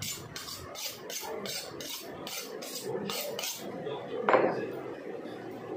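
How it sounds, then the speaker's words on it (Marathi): A kitchen knife used for cutting mutton is sharpened with about eight quick, regular rasping strokes close by, followed by a single louder metallic clank, with faint background voices. "आता चाकू धार करायचा."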